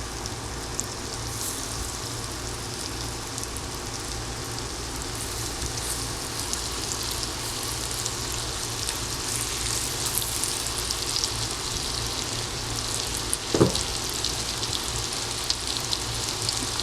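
Steady, dense sizzling of a vegan junk-food snack frying until crispy in a battered pan, continuous and fairly loud throughout with no talk.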